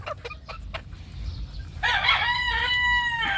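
Roosters crow on a farm: a long, loud, harmonic cock-a-doodle-doo rings out near the middle, after a few scattered clucks from the flock.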